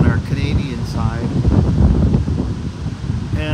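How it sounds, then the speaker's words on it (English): Wind blows steadily outdoors as a continuous broadband rush and buffeting against the microphone, with a person talking over it throughout. "it's a little bit windy"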